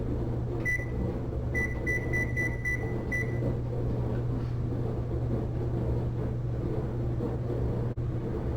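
A kitchen oven's control panel beeps in a short series of bright electronic tones while being set to 375 degrees convection, sounding over a steady low appliance hum.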